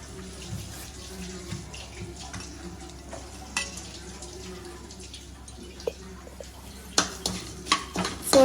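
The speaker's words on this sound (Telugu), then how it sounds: "దాంట్లోకి ఒక స్పూన్ ధనియాలు ఒక స్పూన్ జీలకర్ర ఒక స్పూన్ మెంతులు ఒక స్పూన్ ఆవాలు వేసుకొని బాగా వేగించుకోవాలి" Coriander, cumin, fenugreek and mustard seeds roast in oil in a pan, giving a faint, low sizzle with soft scraping stirs and a few sharper clinks near the end; no voices.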